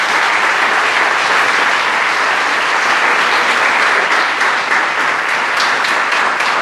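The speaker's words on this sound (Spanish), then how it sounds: "Denle un aplauso al Señor por ello." A church congregation applauding during a sermon, a loud, dense and continuous wash of clapping that holds steady from start to finish with no speech over it.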